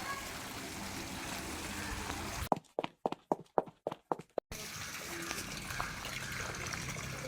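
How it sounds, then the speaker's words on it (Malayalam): Waste water gushing and draining through a pipe in a steady rushing stream, broken midway by a short run of sharp clicks before the flow resumes. "നമ്മൾ വേസ്റ്റ് വെള്ളം കംപ്ലീറ്റ് ഇങ്ങനെ ഒഴുകി പോയി കേട്ടോ ഇതിൻ്റെ സൗണ്ട് കേട്ടില്ലേ"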